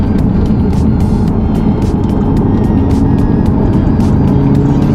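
A Cupra Formentor VZ5 with its five-cylinder RS3-derived engine is driven hard, a loud, continuous engine drone and road roar filling the cabin throughout.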